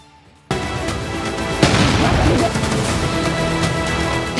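A sudden loud blast erupts after a brief quiet moment, followed by a sustained roaring wash as water is thrown into the air and comes crashing down.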